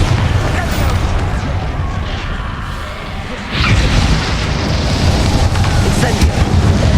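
A Bombarda spell exploding in Hogwarts Legacy: a heavy booming blast with rumbling debris, dipping briefly before a second loud burst surges back and rolls on steadily.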